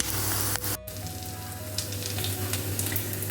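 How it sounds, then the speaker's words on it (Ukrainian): Mushroom cutlets fry in a pan over slightly below medium heat with a continuous dense sizzle and crackle, close and fairly loud, broken by one brief sharp clatter early on. "А смажені їх на чуть меншому вогні, ніж середній. Тому що нам потрібно, щоб наші грибочки в наших котлетках гарненько просмажились."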